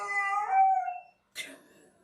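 A dog howls close by in a long, wavering, rising-then-falling tone lasting about a second, then after a short pause a brief whimpering yip follows.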